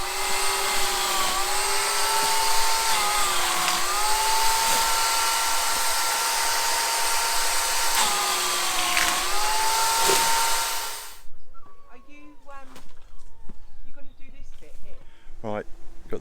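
A 750 watt chainsaw runs steadily on an Aferiy solar generator, a loud sustained motor whine with slight pitch dips, then cuts off around eleven seconds, leaving quieter clatter and handling sounds.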